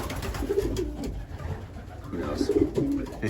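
Young racing pigeons coo in a loft, soft throaty rolling calls in two clusters close by over a steady low rumble of background noise.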